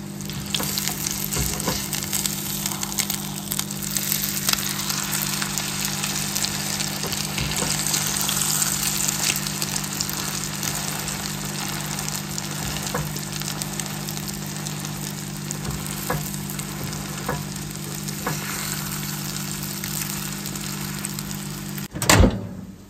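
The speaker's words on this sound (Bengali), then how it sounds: "ডিম ভাজিটা হয়ে গেছে," Egg frying in a pan, a steady broadband sizzle running unbroken and fairly close throughout, with a low hum beneath it and a brief louder knock near the end.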